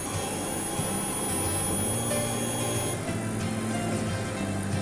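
A mini laser machine cuts wood with a steady, continuous whir and hum, constant in level, with a faint high tone running throughout and no talking.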